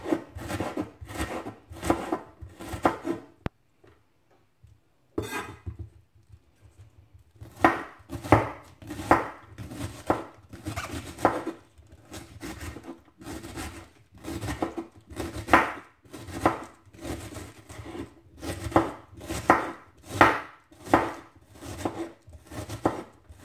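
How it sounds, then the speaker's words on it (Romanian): Knife finely chopping red cabbage on a cutting board, rapid rhythmic crisp cuts in quick bursts, close and clear, with a short pause before the steady chopping resumes. "În felul acesta, varza se toacă mai mărunt și mai fin."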